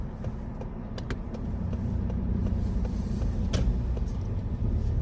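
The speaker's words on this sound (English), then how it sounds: "The engine's still on, yeah?" A car's engine running during a driving lesson on a slippery surface, a low steady rumble with faint clicks and knocks from the cabin, no talking.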